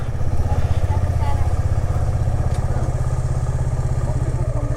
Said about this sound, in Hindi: ये खड़ी अपनी बाइक, इसे लेकर निकलते हैं अब।